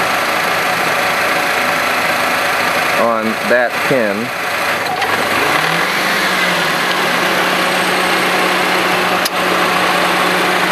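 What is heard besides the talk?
2007 Honda Civic engine idling, A/C compressor clutch engaging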